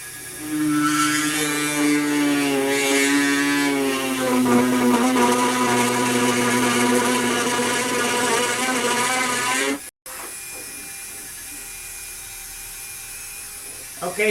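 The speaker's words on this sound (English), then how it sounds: "I will go get that 3-inch cutter" 3-inch hole cutter drilling through a pilot hole while building fuel tanks for a RANS S21 Outbound aircraft, a loud whining, droning drill with shifting pitch for about ten seconds, then stopping to quieter background.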